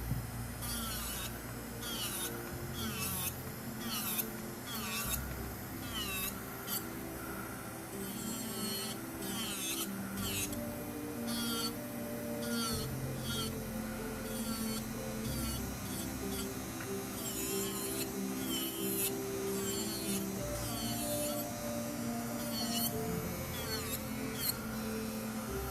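A high-pitched electric nail drill whines continuously, its pitch wavering as it grinds and buffs nail product off in short strokes, close and steady.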